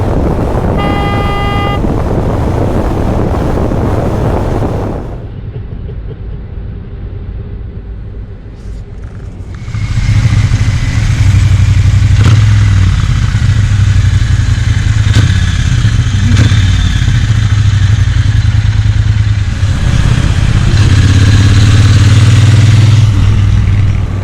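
A Triumph Bonneville T120 fitted with a Motone Customs X-Pipe, Vance & Hines exhausts and a booster plug rumbles loudly and steadily, with wind buffeting the microphone and a brief tooting tone near the start.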